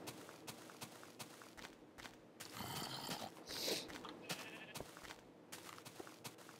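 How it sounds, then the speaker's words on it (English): Minecraft sheep bleat a few times at moderate distance, mixed with soft blocky footsteps and small game sounds in a quiet setting. "It's nice when you have a lot of sheep around"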